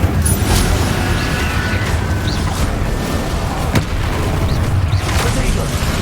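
An Incendio fire spell goes off in Hogwarts Legacy, a dense burst of booming, crackling blasts with sharp pops scattered across several seconds of roaring combat noise.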